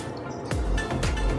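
A trimmed piece of bread is dipped into water in a home kitchen, giving a brief close splash and a few wet drips, with no talking.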